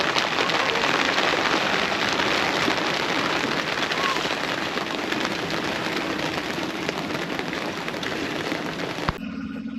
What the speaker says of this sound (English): the third phase of the squall, and that's a little bit of rain